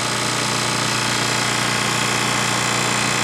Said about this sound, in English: they really pull good, those Onan engines